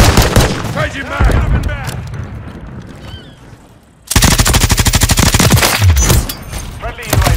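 A Mk 46 Mod 0 machine gun in Modern Warfare 3 multiplayer on the Dust to Dust map fires long, loud, rapid automatic bursts, with other gunfire and game voice callouts around it.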